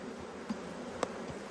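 Honey bees buzz faintly at an open beehive during a hive inspection, a soft steady hum with a couple of tiny knocks, no voices.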